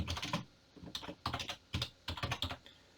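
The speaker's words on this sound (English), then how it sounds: "So I can type in" Close, clear typing on a computer keyboard while editing a website, in short bursts of quick keystrokes separated by brief pauses, with no voices.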